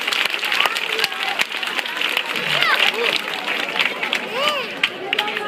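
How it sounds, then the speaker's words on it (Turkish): An audience at a children's festival at İkitelli Halkevi claps and cheers in sustained applause, with scattered whistles and excited chatter mixed through the crowd. "Hepinizden kocaman bir alkış istiyorum onlar için"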